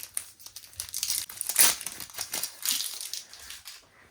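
Crisp crinkling of a thin plastic mystery-box packet being handled and torn open, close up, in bursts over a few seconds with no voices.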